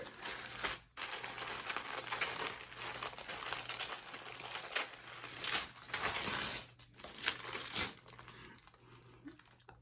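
Paper or plastic wrapping on a Splendies subscription package is crinkled and torn open, a steady close rustling with brief pauses and no talking.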